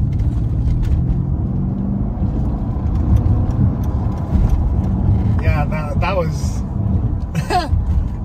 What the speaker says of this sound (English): I'm just gonna do like a quick pull, see how quickly this car moves.